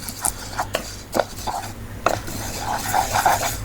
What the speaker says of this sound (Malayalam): ഒരു നോൺ സ്റ്റിക്ക് പാത്രത്തിൽ ഇതൊന്ന് വറുത്തെടുക്കണം